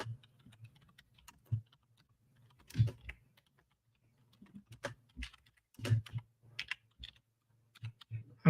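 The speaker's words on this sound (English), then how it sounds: "I'm typing with one hand." Computer keyboard typed one-handed, giving sparse, irregular clusters of close, quiet clicks and taps separated by short pauses, with no talking.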